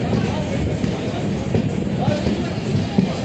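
A Mumbai local train rumbles steadily alongside platform 4, with a low continuous rolling noise and faint clatter throughout.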